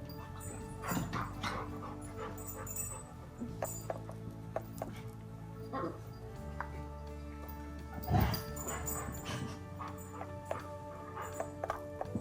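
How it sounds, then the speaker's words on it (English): Dogs fighting indoors in a home, with repeated scuffling, barks and sharp outbursts over steady background sound, loudest in a burst near the end; no speech. "oh my god, my dogs are fighting"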